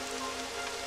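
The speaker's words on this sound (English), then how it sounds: "It would have to go and start raining, wouldn't it?" Steady rain hisses evenly on a surface in the fantasy role-playing game Dragon Quest XI, a brief, unbroken patter with no other sounds.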